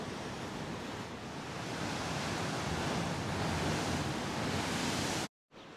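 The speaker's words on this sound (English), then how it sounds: "so wavy, so windy. It's incredible." Loud, continuous roar of rough surf and gusting wind buffeting the microphone on the coast at Santa Ponsa, Mallorca, with a brief cut to silence near the end.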